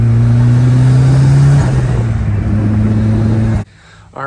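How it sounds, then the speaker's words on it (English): A car driving through city stop-and-go traffic, its engine humming steadily up close inside the cabin before cutting out abruptly near the end. "I've been doing like a lot of city stop and go driving like I am right now."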